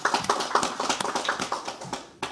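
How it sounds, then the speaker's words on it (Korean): Applause from guests as Kim Chong-in, interim leader of the People Power Party, is introduced at a small-business policy meeting in Korea; a short burst of scattered clapping with no talk, ending abruptly. "박수."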